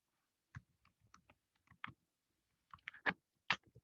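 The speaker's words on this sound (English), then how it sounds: "I'm typing it out." Sparse keyboard typing on a computer, a few scattered clicks and short bursts of keystrokes, close and fairly quiet with pauses between groups.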